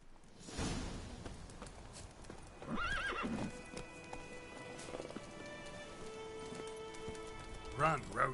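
Roach, a horse in the Witcher 3 video game, gallops with steady clip-clop hoofbeats, whinnies and snorts at several points, over rain and background game ambience.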